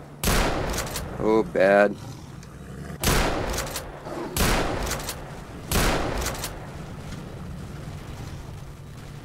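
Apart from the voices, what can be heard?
shotgun fire in the video game STALKER: Shadow of Chernobyl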